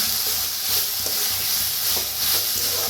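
Tomato and spring onion sizzling steadily in hot oil in a pan, a dense crackling hiss with soft scraping stirs at a fairly even pace, close and continuous with no talking.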